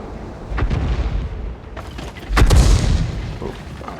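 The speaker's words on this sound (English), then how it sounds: "Oh, alright, so artillery's still shooting at us." Artillery shells in a tank battle video game strike nearby, producing two heavy booming impacts, the second louder and more crackling, over a low rumbling background.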